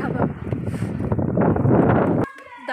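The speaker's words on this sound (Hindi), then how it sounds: "इतनी तेज हवा चल रही" Strong wind gusting outdoors in loud, steady buffeting rushes against the microphone, cutting off abruptly near the end.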